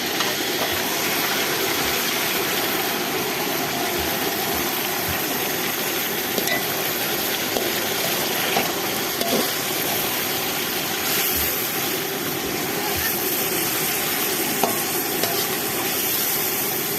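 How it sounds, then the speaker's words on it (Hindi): Marinated chicken sizzling in oil with golden brown onions for desi chicken biryani, a dense continuous hiss and crackle that stays loud and even throughout, no voices. "प्याज हमारा सुनहरा ब्राउन हो गया है। अब हम इसमें मैरिनेशन किया हुआ चिकन शामिल करेंगे"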